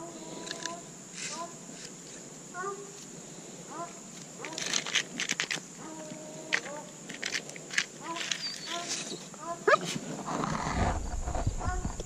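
A 12-week-old coonhound puppy in tracking and treeing training gives short, sharp, repeated barks spaced a few seconds apart while someone speaks encouragingly over them, with rustling and footsteps toward the end.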